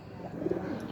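Pigeons coo softly in a low, burbling murmur, fairly faint and close, against a steady background hiss.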